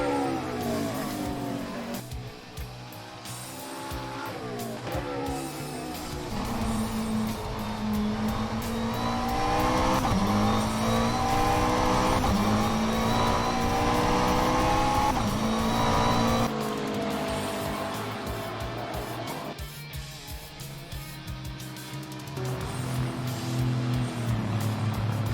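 GT3 race cars lapping Silverstone in a sim racing game, McLaren among them, engines droning and rising through gears steadily throughout, with occasional tire squeal in a continuous dense mix.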